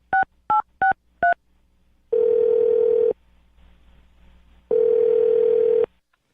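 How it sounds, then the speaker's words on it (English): A telephone dialing a number: four short DTMF keypad beeps in quick succession, then two long steady ringback tones separated by a quiet pause, clear and close with no voices. "I'm going to dial her phone number right now"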